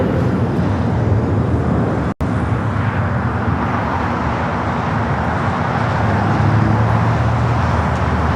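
An airliner taxis at Los Angeles airport, heard as a loud, steady broadband jet roar that fills the whole stretch, with one brief dropout partway through.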